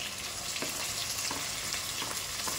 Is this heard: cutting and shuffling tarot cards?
no